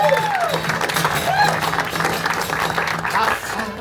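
Audience applause at a folk concert, a steady wash of clapping from the crowd holding at an even level for about four seconds, with faint vocal and instrumental tones mixed in.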